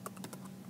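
Quiet, rapid keystrokes on a computer keyboard, a short burst of clicks at close range with no talking.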